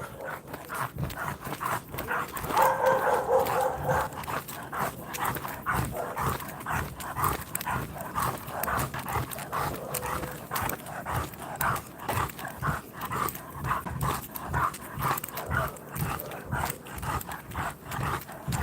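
Pit bull dogs, a pit cross, heard outdoors in the dark during a walk, with steady panting and snuffling and some scuffling movement, close and fairly continuous, with no clear distinct barks.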